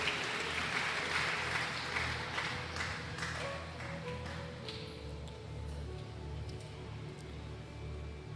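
Congregation applauding in church, a dense steady patter of many hands that stays fairly even and loud throughout, easing slightly in the second half, with no clear voices above it.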